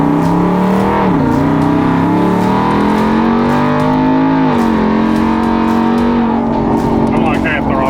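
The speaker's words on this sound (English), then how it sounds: "I'm like half throttle right now" A twin-turbo Ford F-150 engine drones at half throttle while driving, a loud steady tone that rises and dips slightly as the revs shift, with people talking over it.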